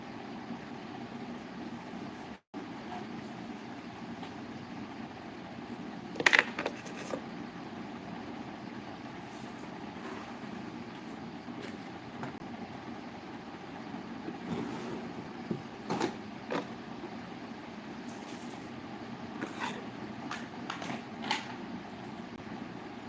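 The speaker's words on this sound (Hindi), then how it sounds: "ट्रैक्टर के साथ इस समय क्या कर रहे हो?" A tractor working a wheat field drones with a steady, low engine rumble under wind noise, with a few faint clicks and no talking.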